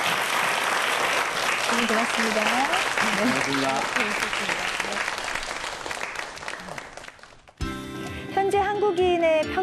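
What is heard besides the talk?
audience applause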